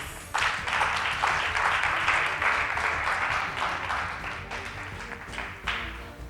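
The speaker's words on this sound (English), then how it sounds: "Let's give them another round of applause" A steady round of audience applause for the winners of a youth day debate, dense and sustained, starting abruptly and continuing for several seconds at moderate loudness.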